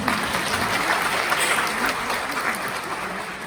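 Audience applause at the opening ceremony of the Golden Linden international film festival, a steady dense wash of clapping filling the hall without pause, moderately loud throughout.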